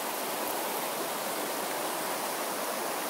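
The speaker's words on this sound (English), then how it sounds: "just look at this stream, this river." A stream or river flows steadily with a dense, continuous rushing wash of water. It is close and loud, with no voices.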